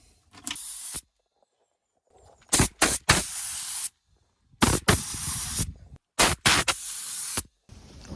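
Paint sprayed onto a Ford Sierra Cosworth boot lid in a series of loud hissing bursts, each lasting about a second, separated by short silences.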